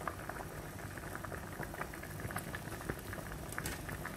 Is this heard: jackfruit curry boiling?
yes